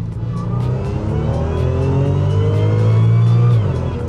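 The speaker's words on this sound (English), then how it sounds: "I'm gonna miss the blower whine." Supercharged Audi S4 engine revving hard and holding high revs, loud and close, with a rising blower whine over the engine before it drops off.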